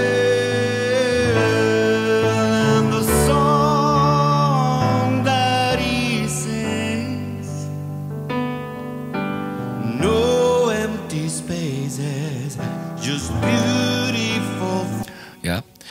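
A mixed music track of piano and vocals: sung melody lines over sustained piano chords, steady and full throughout, with no talking.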